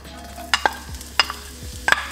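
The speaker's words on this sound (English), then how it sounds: "All right, let's start frying. All right, so I'm gonna add the onions first." Onions go into a hot pan for a Korean kimchi jjigae and Spam fried rice meal, giving a sizzle broken by several sharp clinks and scrapes of stirring, close and clear with no talk.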